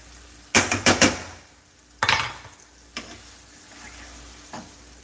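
Ackee fruit being folded in a pot in a home kitchen, heard as a few sharp clanks and scrapes of a spoon against the pot in a quick cluster, then softer isolated knocks over a faint steady background.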